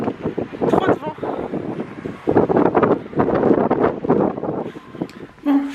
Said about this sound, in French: il y avait énormément de vent